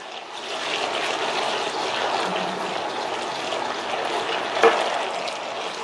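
Pasta cooking water is added to a pan of anchovy sauce for spaghetti, giving a soft, steady trickle and simmer with one brief clink near the end.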